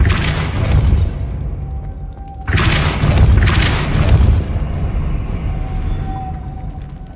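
Depulso spell blasts go off in the video game Hogwarts Legacy, two loud booming bursts separated by a short pause over a rumbling low background.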